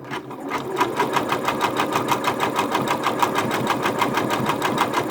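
Up close, a sewing machine runs a blanket stitch around fabric appliqué, a continuous, evenly pulsing mechanical whir with a regular stitch rhythm throughout.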